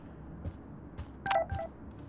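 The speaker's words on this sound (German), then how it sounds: "Oh, wir haben einen Eintrag, eine SMS bekommen." A text message notification chimes once in the Life is Strange video game, a short bright electronic tone heard clearly and alone after a few soft taps.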